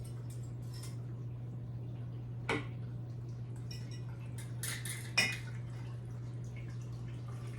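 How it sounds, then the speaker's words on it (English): A utensil stirs pickling lime water in a container, giving faint scattered clinks and a couple of sharper taps against the side over a steady low hum, with no talking. "I'm gonna stir this one more time because I think some of it has settled"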